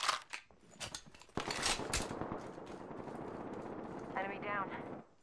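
Rapid video-game gunfire crackles in bursts through the first two seconds, then a dense, sustained barrage of shots and impacts continues steadily up close, with a voice talking briefly underneath near the end.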